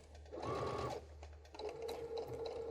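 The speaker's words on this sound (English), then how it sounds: "So let's just start stitching" A Baby Lock sewing machine stitches with a Garment Maker foot, a close, fairly quiet whir that runs briefly, pauses, then resumes steadily.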